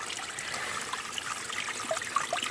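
Spring water trickles and gurgles through rocks beside the Appalachian Trail, a steady close babble with small bright drips, heard alone with no talk.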